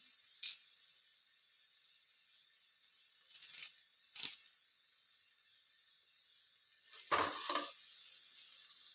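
Curry leaves hit hot oil in a frying pan for a beef dish, giving short crackling sizzle bursts at intervals over near silence, with a louder spitting flare toward the end.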